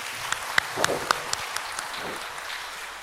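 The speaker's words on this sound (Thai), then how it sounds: "ขอเสียงปรบมือต้อนรับท่าน" Scattered hand clapping from a small crowd, a few sharp claps standing out, with a voice speaking faintly underneath before the applause tapers off.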